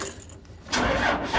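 A 24-valve Cummins diesel in an old FedEx freight truck with 181,000 miles cranks briefly after a jingle of keys, then catches and settles into a rough, close idle.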